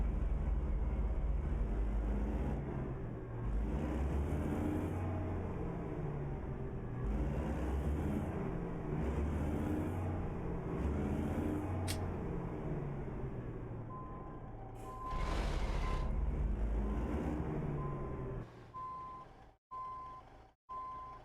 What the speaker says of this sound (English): I think the truck sounds got messed up.